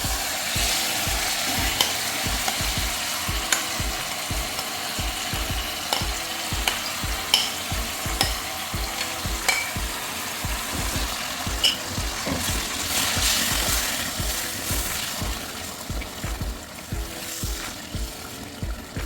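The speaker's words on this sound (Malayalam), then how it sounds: "നമ്മൾ മീഡിയം ഫ്ലെയിമിൽ വെച്ചിട്ട് ഇത് പതുക്കെ ഇളക്കി നന്നായിട്ട് ഇങ്ങനെ വരട്ടി കൊണ്ടിരിക്കുന്നു" Cooked, mashed banana is stirred in hot ghee in a pan over medium flame, giving a continuous close sizzle and rhythmic scraping of the spoon against the pan.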